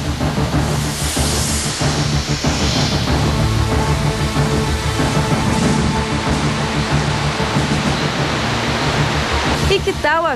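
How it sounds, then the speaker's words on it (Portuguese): A 100-metre waterfall at the Salto Morato reserve roars as loud, steady broadband rushing water, continuous and close throughout. "Uma queda d'água de 100 metros"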